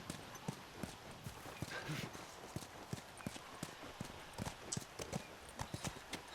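Horse hooves clip-clop in The Last of Us, a steady walking rhythm of crisp, evenly spaced hoof strikes over a continuous background hiss, with a brief voice speaking partway through.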